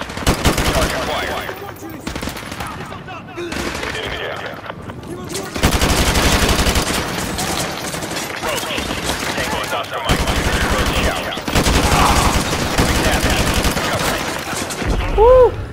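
Loud gunfire in the Call of Duty Modern Warfare 2 video game, repeated rapid bursts of automatic fire and volleys of shots packed closely together across the whole stretch, with game voices mixed in.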